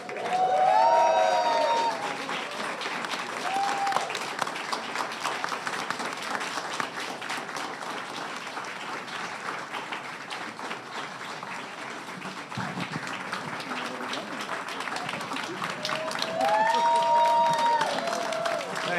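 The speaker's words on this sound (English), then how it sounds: "How about a round of applause?" Audience applause at a Disney-MGM Studios stage show, steady crowd clapping that continues for the whole stretch, with whistles and cheers at the start and end and voices talking over it.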